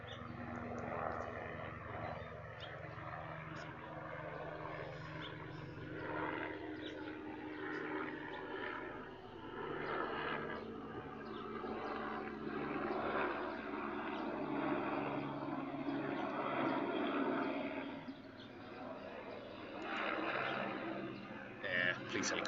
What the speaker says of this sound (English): Yeah, police helicopter, he's kind of far off the other side.